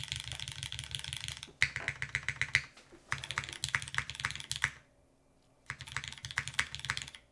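Brisk typing on a Parabolica60 60% keyboard with a copper mid piece, aluminum plate and Cherry MX2A switches: rapid clacky keystrokes in bursts, separated by short pauses and one longer silence, heard up close.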